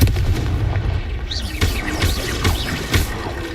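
Repeated blasting-curse explosions in the Hogwarts Legacy video game, several booming bursts at roughly half-second intervals over dense rumbling battle noise, loud and close.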